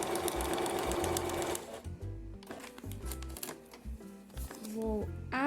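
Sewing machine stitching a seam on fabric, a steady close rapid mechanical chatter that pauses and restarts in short runs, with someone speaking over it.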